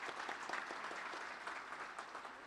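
A crowd claps at a school valedictory ceremony for a graduating class, a steady round of applause with individual claps audible, somewhat distant and continuous throughout.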